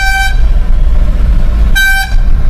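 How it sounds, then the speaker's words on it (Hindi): Car horn honking loudly up close during night driving, two bright blasts with a gap between them over a constant rumbling engine and road noise. "उसको हॉर्न देने दो, हॉर्न दो आप भी"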